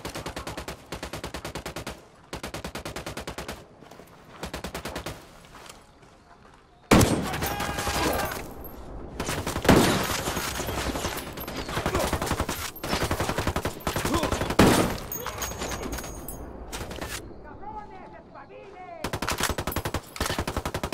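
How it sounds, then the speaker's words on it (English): Gunfire in Tom Clancy's Ghost Recon: loud bursts of automatic fire and rapid shots in dense stretches, broken by short pauses, with occasional voices. "Opening fire on these fuckers."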